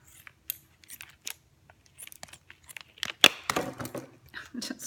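Scissors snip off the end of a rubber balloon stretched over a bottle, a series of small close clicks and snips with light rubber handling and a sharper cut near the end.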